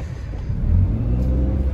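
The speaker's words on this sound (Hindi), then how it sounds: "traffic traffic traffic" Road traffic rumbles along near Marine Drive amid construction, a steady low drone of passing cars with a slight swell as an engine revs, without any talking.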